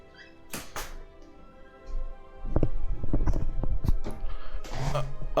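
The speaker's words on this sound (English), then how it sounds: "Oh, my cat wants to go outside." A house cat meows to be let outside, a few short near cries among clicks and thumps, with the room otherwise quiet.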